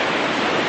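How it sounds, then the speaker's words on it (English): Ocean waves off Frankland Island near Cairns, heard as a steady, loud, hissing wash of surf with no pauses, close and without voices. "Wow, there's waves."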